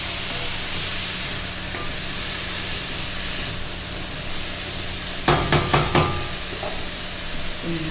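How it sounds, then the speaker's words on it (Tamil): A finely chopped, drained banana stem stir-fry sizzles steadily in a pan. Near the end a quick run of scraping clatters comes from a spoon being stirred against the pan, and no one speaks. "நல்லா கிளறி விட்டுக்கோங்க."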